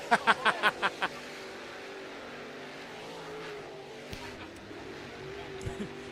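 A dirt late model race car with a Swartz chassis runs on a dirt track, its engine a faint, distant drone. A few sharp bursts come at the start, and an announcer talks over it.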